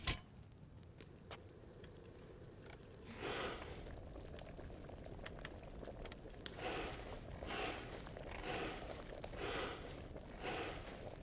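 Bubbling liquid boils in bursts, swelling and fading several times over a quiet, faint background while an herbal brew is prepared in the game Mysteria Eccelsiae.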